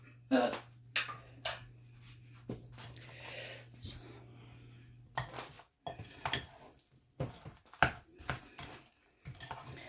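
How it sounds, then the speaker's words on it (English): A spoon clatters and scrapes in a bowl while apple fritter batter made with unsweetened almond milk is mixed, in irregular clinks and knocks with pauses, close up, a faint steady hum behind. "let me mix this up"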